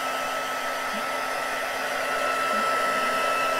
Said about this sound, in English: if we dry it with the heat gun, we get some nice larger crackles